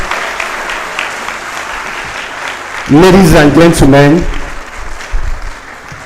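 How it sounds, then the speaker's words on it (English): An audience at an inaugural lecture breaks into loud, dense applause for about a second and a half, rising abruptly and then fading under a speaker's voice. "I think that deserves another round of applause"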